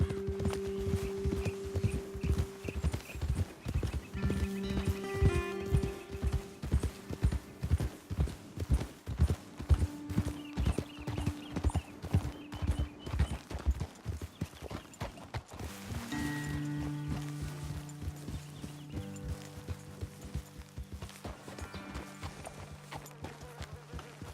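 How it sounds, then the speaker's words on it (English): Horses walk at a steady pace in the Red Dead Redemption 2 video game, with rhythmic hoof clip-clops continuing throughout alongside low music tones and ambience. "Okay, let's dismount here. Best leave the horses back a bit."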